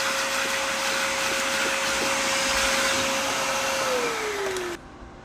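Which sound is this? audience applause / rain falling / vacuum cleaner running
vacuum cleaner running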